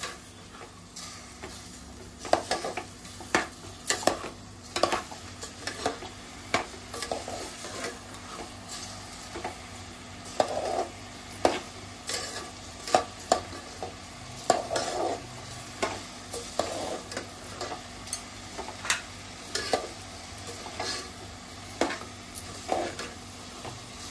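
Raw rice is sautéed in a pan with tempered spices for prawn rice, a soft continuous sizzle broken by regular scraping stir strokes of a spoon against the pan.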